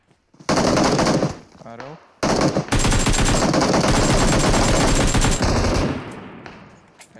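Rapid automatic gunfire in a battle royale video game fires in long loud bursts close by, with brief gaps between them and a short spoken word over it.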